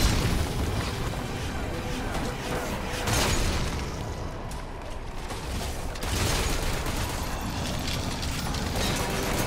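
Explosions in Metal Gear Solid V, dense booming blasts and rumbling gunfire-like bursts sustained throughout, loud and close, with several louder surges.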